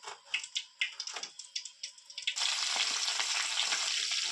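Chopped onions and green chillies hit hot oil, with a few sharp pops and crackles first and then a sudden loud, dense, steady sizzle for the rest of the clip.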